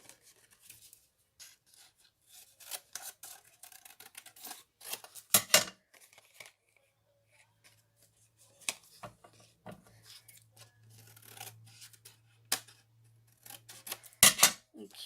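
Scissors snipping through craft material, close and quiet, with irregular clusters of crisp cuts separated by pauses and a low steady hum running partway through.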